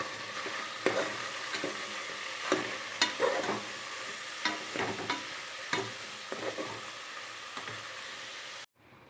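Chicken fries in oil in a pan with salt and turmeric for a spicy Rayalaseema-style curry. A soft steady sizzle runs throughout, broken by repeated scraping stirs, and stops abruptly at the end.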